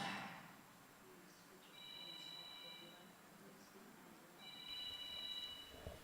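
A mobile phone rings faintly in an ashram gathering, two short bursts of repeated electronic tones against the room's low background.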